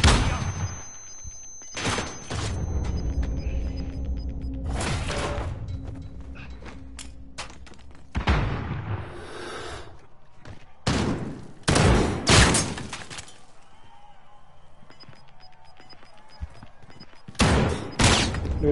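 Bursts of gunfire in a PlayStation 4 shooter game, several loud volleys separated by quieter stretches, with some mechanical clatter and footsteps between shots.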